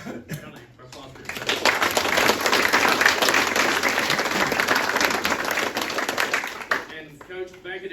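Applause breaks out at a village council meeting, a crowd clapping steadily for several seconds before fading, with people talking briefly before and after.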